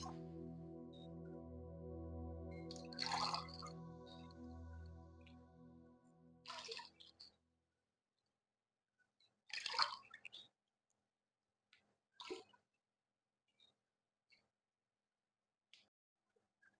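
Water pours into a cooking pot of soft vegetables for soup, coming in a few short splashing gushes followed by scattered faint drips, all quiet and close.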